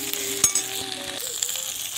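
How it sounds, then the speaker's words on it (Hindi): Cauliflower fries in a pan with a steady close sizzle under a faint hum, with a few soft knocks from stirring. "और गोभी देखो दोस्तों हल्का हल्का भून गया है"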